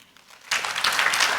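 An audience at an inaugural digital education event in India applauds its panelists, with a sudden burst of clapping that swells and holds steady, filling the room.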